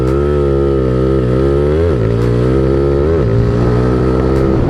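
A motorcycle engine with a failing spark plug runs loud and close, holding a steady idle that sags and stumbles twice as if about to die.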